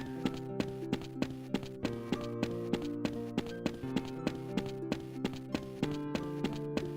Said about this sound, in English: you just hear footsteps